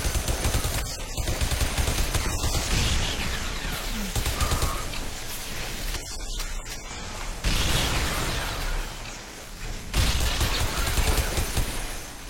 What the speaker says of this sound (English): I don't know who is shooting at me or throwing those grenades.